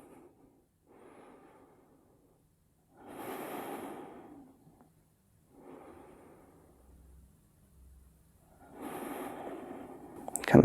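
Slow, deep breathing through the nose during a yoga twist pose, long audible inhales and exhales alternating with quiet pauses, close and soft, ending with a brief rustle.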